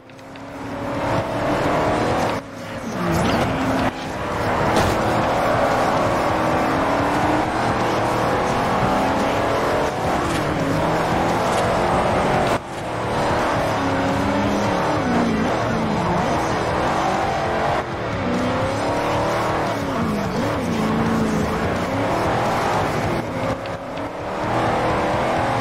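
A Dodge Challenger races in Forza Horizon, its loud engine droning continuously with shifting pitch as it pushes through a pack of cars, with brief dips between gear changes and faint tire noise.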